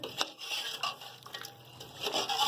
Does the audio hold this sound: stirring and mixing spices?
yes